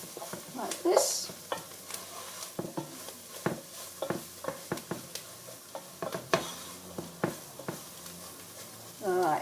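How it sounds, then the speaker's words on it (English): A spoon stirs flour into a soup base in a pot, making repeated soft scraping strokes and light sizzling at an uneven rhythm, close and quiet, with a voice speaking over it at times. "Keep stirring until it's all combined."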